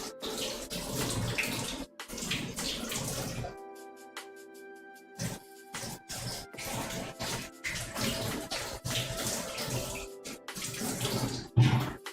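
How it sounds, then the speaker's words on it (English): Produce being washed under a running kitchen tap, water splashing and rushing in uneven bursts with a steady faucet stream in the middle, close by, with brief talk. "so let's go wash it"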